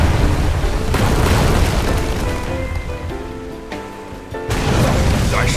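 Heavy cannon fire in a naval battle in the Uncharted Waters Origin game, a dense roaring barrage of booms that runs nearly the whole time, dips briefly, then surges back at full loudness.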